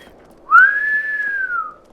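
In the video game Shadow of the Colossus, a single high-pitched whistle rises quickly, then holds a clear, steady tone for over a second before fading, loud and alone over a faint background.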